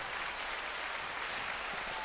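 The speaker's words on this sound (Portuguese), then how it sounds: "Aplauso para a Silvia" A crowd applauds Silvia with dense, steady clapping that holds at an even level throughout.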